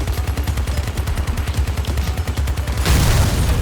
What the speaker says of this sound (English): does have the bigger, heavy-duty machine guns on it instead of the lightweight ones we had